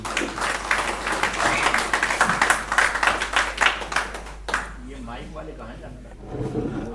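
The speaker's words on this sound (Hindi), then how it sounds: "मैं चाहता हूँ कि आप लोग ज़ोरदार तालियों से इनके इस्तकबाल कीजिए" An audience at a national conference on social and educational awareness claps loudly to welcome a speaker, brisk crowd applause for several seconds that cuts off abruptly, followed by someone speaking into a microphone in a small hall.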